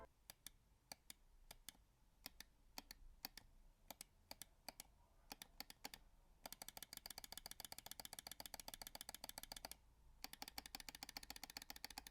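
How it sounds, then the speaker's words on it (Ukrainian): Side buttons on Rawm ES21PRO and SH01PRO computer mice click crisply, first in spaced single clicks, then in fast, dense bursts of rapid repeated clicking, close and clear against a quiet background. "Дуже класний клік у бокових кнопок."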